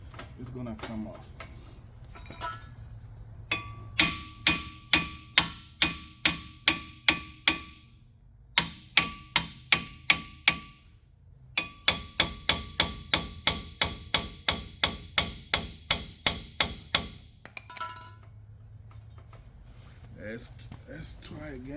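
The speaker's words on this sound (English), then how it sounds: "So I'm going to hammer this here, okay? And then the rotor will come off." Long runs of sharp, ringing metal blows hammer a tight brake rotor off a Mitsubishi Mirage, close and steady with brief gaps between bursts, over a low background hum.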